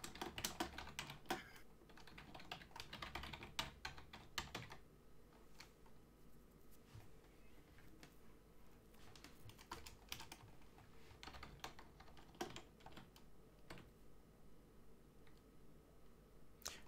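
Quiet, irregular keystrokes on a computer keyboard tap away at close range, with brief pauses between bursts and no speech.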